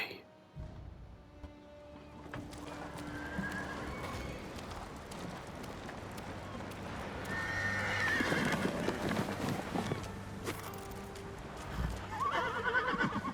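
A fearless war horse in the video game Ghost of Tsushima whinnies and clops its hooves as it is fitted with Sakai horse armor, over a busy game soundscape that grows louder toward the end.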